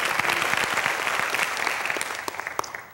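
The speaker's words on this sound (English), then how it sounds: "I think we ought to give the Lord a big praise clap in the name of Jesus." A church congregation gives a sustained round of applause during a Sunday service, a dense steady wash of many hands clapping with a few sharper individual claps standing out near the end.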